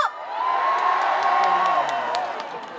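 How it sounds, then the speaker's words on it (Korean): An outdoor concert crowd on the right side of the venue at a ceramics festival's opening show shouts and cheers loudly, with sustained whoops swelling through the clip and scattered claps. "오른쪽에 계신 우리 관객 여러분들 소리 한번 질러볼까요?"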